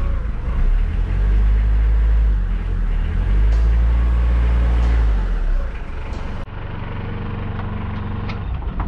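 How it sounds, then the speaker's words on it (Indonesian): A 2008 truck engine idling smoothly, a steady low rumble close by that drops slightly in level partway through, with someone talking over it at times. "Untuk mesin halus sekali."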